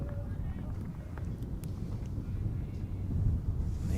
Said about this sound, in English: And just waiting for a gust of wind to die down.